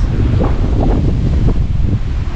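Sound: strong wind

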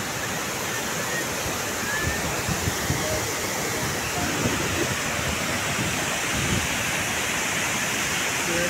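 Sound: Gullu waterfall roaring in rainy season

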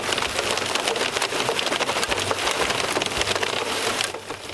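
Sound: heavy rain during a storm

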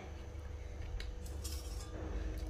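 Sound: metal cooking pot being handled

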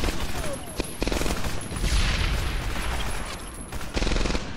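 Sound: grenade explosion and gunfire in video game Medal of Honor Airborne

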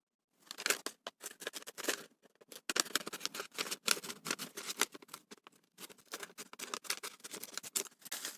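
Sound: scissors cutting fabric

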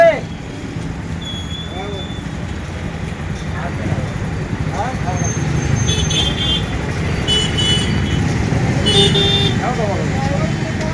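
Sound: road traffic with car horns honking

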